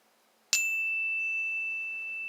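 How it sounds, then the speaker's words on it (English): A single bell is struck once with a bright, sharp attack and then rings on with a clear, sustained tone that fades slowly in quiet surroundings. "I'm going to start with a bell."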